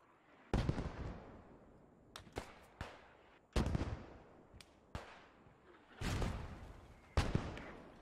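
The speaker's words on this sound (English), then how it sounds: "Enemies are dropping mortars on those our heads." Mortar rounds land in the Post Scriptum video game, with about six sharp blasts at irregular intervals, each a sudden crack that rings out and fades, plus a few smaller pops between them.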